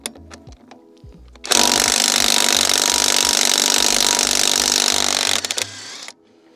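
A Parkside Performance PPDSSA 12 A1 cordless impact wrench loosens a nut in a loud, dense hammering burst of about four seconds. Short mechanical clicks and handling noises come before and after it.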